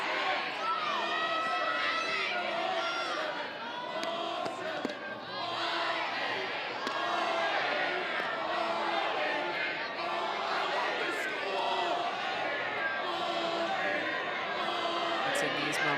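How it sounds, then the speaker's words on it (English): A college softball stadium crowd, Utah State vs Texas A&M, keeps up a dense, continuous roar of cheering, chatter and shouts, with a commentator's voice running over it throughout. "at least they're nice enough to give you a hand a nice little ovation"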